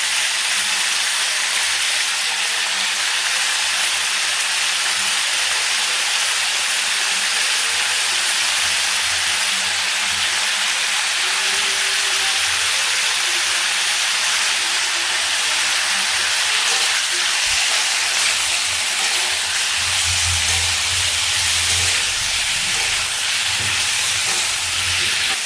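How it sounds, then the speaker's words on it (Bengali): Chicken fries in a pan for a stew, giving a steady, bright sizzle and hiss that carries on unbroken throughout, close and fairly loud with no talk over it. "ভালো করে 2 মিনিট একটু চিকেনটাকে ভেজে নেওয়ার পরে এর মধ্যে আমি পেঁয়াজ দিয়ে দেবো।"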